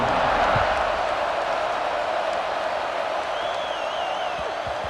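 Football stadium crowd before a kickoff, a dense, steady roar of cheering voices filling the space, with a faint whistle-like tone rising midway; no clear single voices stand out.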